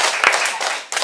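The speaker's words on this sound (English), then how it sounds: "Let's give our speaker a big applause." An audience at a storytelling presentation claps for the speaker in a short, loud burst of applause.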